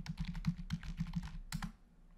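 Close, soft keystrokes on a computer keyboard tap out a quick run of about a dozen presses while a password is entered, ending with a final pair of strokes.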